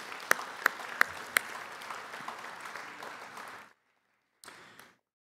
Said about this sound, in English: How about a round of applause for all the family and friends?